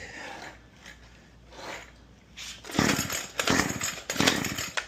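A string trimmer that has been primed and choked, with a repaired pull cord. A few soft cord-pull swishes come first, then the small engine catches in loud, close, sputtering bursts.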